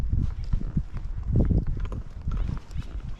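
A ridden horse walks at an unhurried pace, its hooves thudding in a steady, close clip-clop rhythm with faint bits of background sound.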